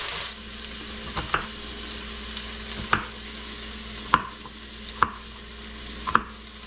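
Cottage pie filling sizzles steadily in a pan while a utensil stirs it, with a series of distinct scraping knocks at irregular intervals over the continuous frying hiss.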